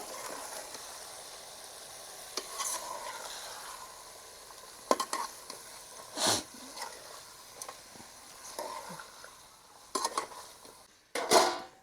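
Broad beans curry frying in a pan gives a low, steady sizzle, broken by a few sharp spoon scrapes and clinks against the metal, close up and without speech.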